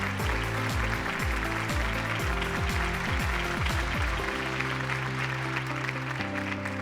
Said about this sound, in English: let's have a huge round of cheer